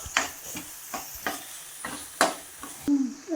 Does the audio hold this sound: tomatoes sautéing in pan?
yes